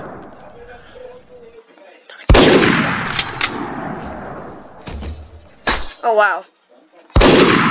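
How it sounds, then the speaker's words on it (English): Sniper rifle shots in the video game Garry's Mod, several loud sharp blasts with ringing decay, spaced apart, with a voice exclaiming between them. "I'm gonna shoot him. Shot him right there."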